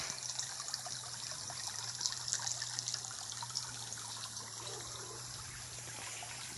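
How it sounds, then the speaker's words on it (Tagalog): A steady, gentle stream of river water trickling and babbling over rocks, with a low constant hum underneath and no talking. "Tawid muna tayo sa malinis na ilog mga karepa."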